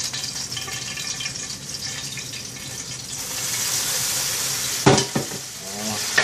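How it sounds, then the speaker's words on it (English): Turkey rope sausage fries in hot oil with a steady sizzle, then sharper clatters and splashes near the end as oil is drained and the sausage is flipped in the pan. "I'm going to drain some of the oil off and flip the sausage over."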